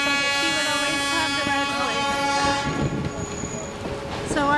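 A train horn sounds the Morse code letter Q, a series of loud, close toots of long and short length that fade near the end, with background rumble.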